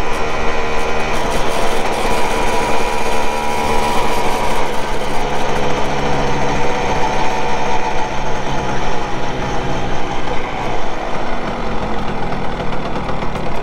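A Simson SR2 moped engine while riding on a lakeside run near Leipzig: a loud, continuous, buzzing two-stroke drone close up that holds steady throughout, with no voices.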